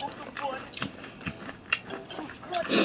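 Crisp crunching bites of Lotteria fried chicken fillet, freshly fried, several in a row with chewing between them, close to the mic.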